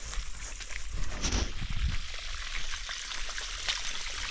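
Irrigation water pours and trickles steadily along a field channel to eggplant plants, a continuous close-up gurgling flow with a few low thuds and no talk.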